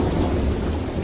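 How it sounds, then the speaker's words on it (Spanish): Heavy rain pours onto a rocky surface beneath rolling thunder, forming a loud, dense and continuous roar with no pauses or voices. "la lluvia comenzó a caer sobre la superficie rocosa"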